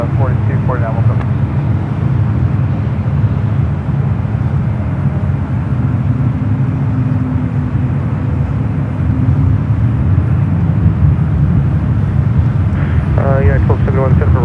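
An Air India Boeing 777-300ER at San Francisco airport gives a steady, loud low engine roar that holds throughout, with brief voices near the start and end.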